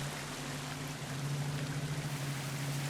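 The bottom of a waterfall in the video game Planet Coaster 2 gives a continuous rushing, pouring stream of water over a low steady hum, with no talking.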